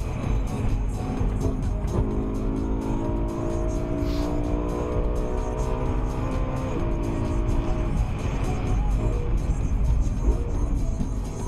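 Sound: BMW M3 car driving

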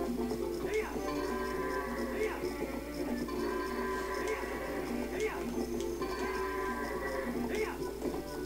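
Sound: goats in The Legend of Zelda: Twilight Princess video game

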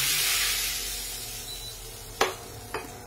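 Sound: cumin and red chili tempering sizzling in hot ghee

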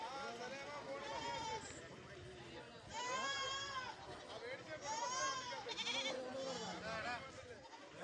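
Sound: goats bleating at a livestock market

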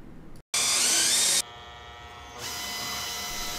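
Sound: drill drilling through a bolt

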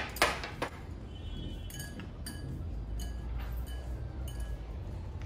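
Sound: mixing carrot muffin batter in a bowl

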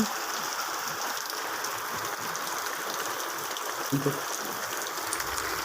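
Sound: heavy rain falling

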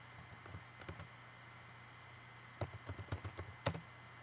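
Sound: typing on a computer keyboard

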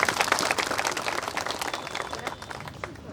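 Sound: crowd applauding at a protest rally

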